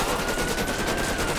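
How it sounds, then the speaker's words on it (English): Police gunfire in GTA 5, a dense, steady rattle of shots close by that fills the whole moment without pause, with no talking over it. "Oh, the police are shooting at my partner."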